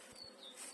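Bees from a neighbouring yard buzz faintly outdoors, a thin, steady hum that swells slightly near the end, with no talking.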